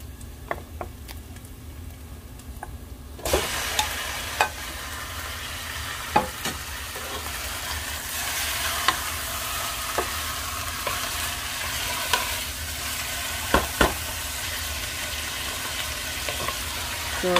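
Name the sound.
chicken frying in a pan for Filipino chicken curry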